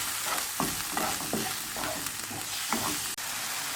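A spoon stirs and scrapes through garam masala, chaat masala, salt, turmeric and red chili in a hot frying pan for samosa filling, with steady sizzling under irregular scraping strokes, close and fairly quiet.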